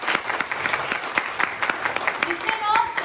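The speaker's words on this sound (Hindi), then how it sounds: "एक बार ताली बजा दो।" Audience at a business training seminar breaks into steady, dense clapping that fills the room for about three seconds, loud and continuous, with a few voices rising near the end.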